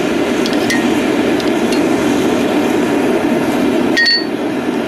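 A steel file is hammered on an anvil while being forged into a knife, drawn out to a tip. A few sharp metallic clinks ring out over a constant roaring forge background.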